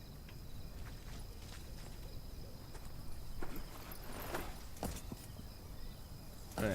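Hooves of a horse walking in the video game Wild West Online make soft, uneven clip-clop steps over a faint background hiss, with scattered clicks and a short noise burst at the end.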